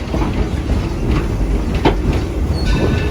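Heritage excursion train slowing as it pulls into a small-town station on the Torch Lake line, with a steady rolling rumble of wheels on rails, faint wheel squeal and a few clanks, loud and continuous throughout.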